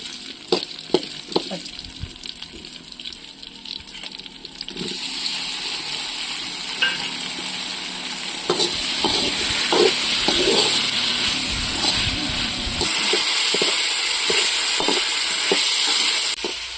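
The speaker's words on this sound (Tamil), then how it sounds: "தக்காளியை நல்லா வதக்கலாம்" Chopped tomatoes sautéing in a pan for a traditional kendai fish curry, with a steady close sizzle and frying hiss, broken by stirring scrapes and clinks, growing louder partway through.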